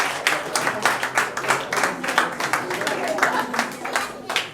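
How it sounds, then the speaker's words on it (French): Applause breaks out at a wedding, with rhythmic clapping from a small crowd under steady talk and laughter. "Applaudissements,"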